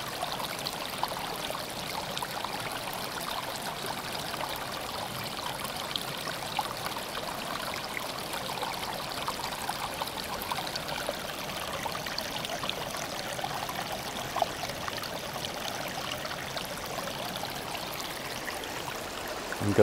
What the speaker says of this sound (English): where the stream meets the river, and let's try it again with the stronger sound of water.